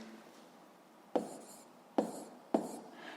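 A math equation being written by hand, three distinct scratchy pen or chalk strokes in an otherwise quiet room, close and fairly faint, with no talking.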